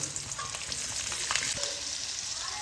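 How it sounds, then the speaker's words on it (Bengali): A dense, continuous sizzle of chopped garlic and chillies frying in hot oil, loud and close, with faint stirring scrapes. "কাঁচা লঙ্কা রসুনটা এখানে একটু ভাজা ভাজা হয়ে গেছে"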